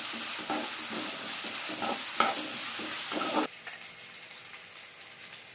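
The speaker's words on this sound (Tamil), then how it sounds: "நான் இதில் நல்லா வதக்கிடுறேன்" Carrots and beans sauté in a pan for mutton fried rice with a bright continuous sizzle and rhythmic scraping stirs, close and steady, then the sizzle drops abruptly to a quieter hiss near the end; no talking.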